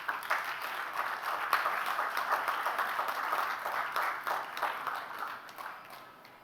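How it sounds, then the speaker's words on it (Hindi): Audience applause at a young poets' Hindi poetry competition, honouring a participant named Himank; the clapping is moderate and steady, somewhat distant, tapering off toward the end. "हिमांक के लिए एक बार ज़ोरदार तालियां।"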